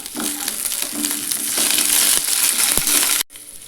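Small shallots, garlic cloves and a sprig of curry leaves sautéing in oil in a pan, a loud close hiss and crackle with a few stirring scrapes, cutting off abruptly near the end.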